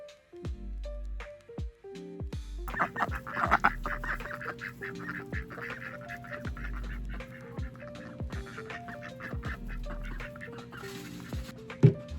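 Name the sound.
ducks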